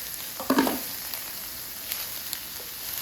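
Risotto rice poured into a pan of sizzling onions, a short burst of pouring and stirring followed by a steady low frying hiss. The sound is near and has no speech.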